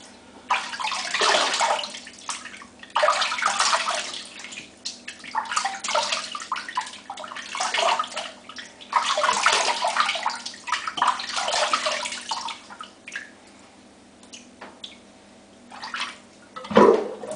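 Shower water runs and splashes in uneven surges, rising and falling as the spray shifts. A louder splash comes near the end, and there is no talk.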